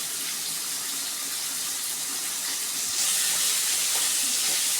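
Pidi karunai kuzhambu ingredients sizzle in a pan, giving a continuous close hiss that grows slightly louder partway through.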